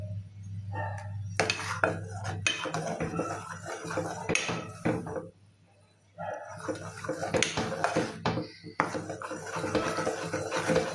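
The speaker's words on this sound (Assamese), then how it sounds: "এইখিনি সময়ত খুব বেছি লৰাই থাকিব লাগিব।" Milk thickening in a pot is stirred steadily, with scraping and clinking of a utensil against the metal pot and a brief pause midway.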